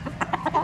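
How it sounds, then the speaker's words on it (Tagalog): A gamefowl broodcock rooster gives several short, close clucks in quick succession, alone without talk. "Tapos dito tayo sa mga broodcock natin."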